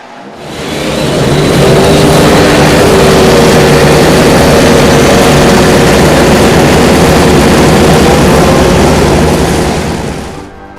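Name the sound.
IndyCar race car engines starting at Long Beach Grand Prix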